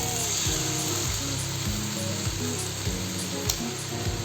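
Potato and prawn curry (aloo chingri) simmering in a pan after a little water is added to oily, well-fried spiced potatoes, giving a steady bubbling sizzle with soft rhythmic stirring scrapes throughout, no talking.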